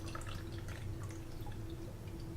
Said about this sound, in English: I'm going to add our 2 ounces of rice wine vinegar.